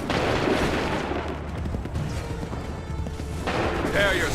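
Massed musket volleys in Assassin's Creed 3 roll out as booming, crackling gunfire under loud shouted commands, with a heavy blast near the end.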